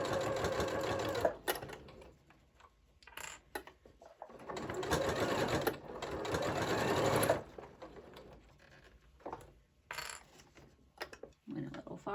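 A sewing machine stitches close to the edge of a keychain wristlet in bursts of steady, rapid needle chatter, broken by pauses and small handling clicks, with soft talk in between.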